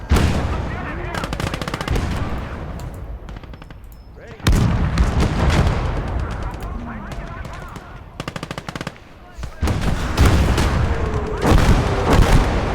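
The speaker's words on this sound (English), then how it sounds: "Beautiful, that artillery." Rapid machine-gun bursts and artillery blasts from a D-Day to the Rhine battle game, loud and dense, with short lulls between volleys and a voice talking over the gunfire.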